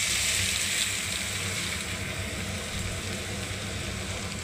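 Shredded potatoes fry in hot oil in a wok over a lowered flame, giving off a steady, close, hissing sizzle that holds at an even level throughout.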